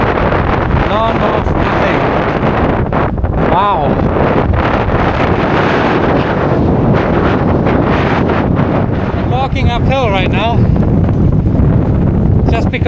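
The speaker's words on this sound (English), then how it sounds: "Pedaling against the wind uphill." Strong wind roars steadily across the microphone of a cyclist pedaling uphill into a headwind on a long road ride, a loud, constant buffeting throughout, while someone speaks a few words over it.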